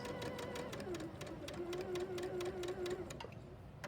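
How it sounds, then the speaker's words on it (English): A sewing machine runs steadily as it stitches along drawn lines on fabric, making a close, continuous rapid clatter with a faint whining motor tone. The clatter ends in a few slower knocks. "I'm going to sew on both lines"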